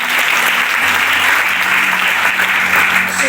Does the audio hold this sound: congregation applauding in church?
yes